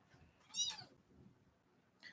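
A week-old kitten lets out a faint, breathy high squeak, then a short quieter cry near the end, over a low background hum.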